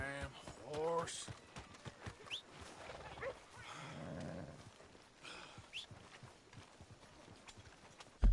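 Hooves clop repeatedly at a moderate distance under scattered voices and other background commotion, with a sharp bang right at the end.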